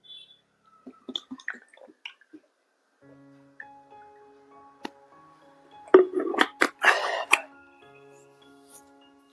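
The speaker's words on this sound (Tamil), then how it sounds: "நான் தண்ணி குடிக்கிறேன்" A person drinks water from a container near a microphone, with soft sips and swallows followed by a louder burst of splashing and gulping around the middle, set among light handling noises.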